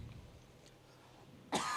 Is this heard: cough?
yes